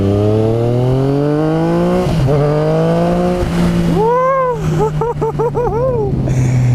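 A 2015 Yamaha FZ-09 (MT-09) motorcycle revs loudly and close, its engine pitch climbing steadily, then rising and falling in quick throttle blips while riding.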